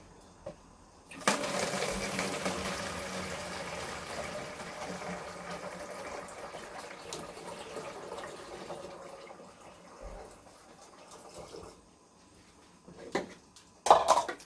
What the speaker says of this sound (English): I'm just going to pour this into my other container